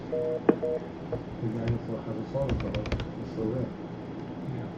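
Telephone keypad tones sound as someone redials into a conference call, with short separate beeps at uneven intervals. Faint voices and background noise from the line sit underneath.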